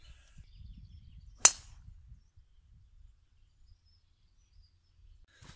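A golf club strikes a provisional ball on a course beside fir trees, a single sharp crack that rings out clearly against quiet outdoor background, followed by near silence.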